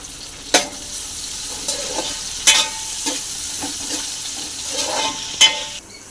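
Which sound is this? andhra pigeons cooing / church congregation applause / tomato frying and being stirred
tomato frying and being stirred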